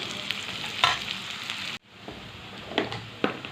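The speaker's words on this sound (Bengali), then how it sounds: "পেঁয়াজটা আমার হালকা করে ভাজা হয়ে গেছে।" Sliced onion and slit green chillies frying in a pan for a Bengali fish curry, a steady close sizzle with a few louder spatters and a brief drop in the middle.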